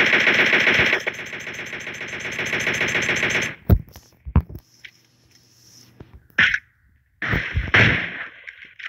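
Rapid automatic gunfire rattles from a favourite weapon in the mobile battle royale game PUBG Mobile, a dense burst for several seconds, followed by scattered single shots and brief firing bursts.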